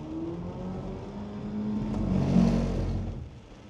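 A car engine revs hard while drifting in a circle, the drone climbing in pitch and loudness to a peak near the end before easing off, with faint tire hiss underneath.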